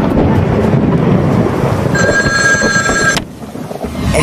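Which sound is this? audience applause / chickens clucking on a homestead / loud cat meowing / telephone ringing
telephone ringing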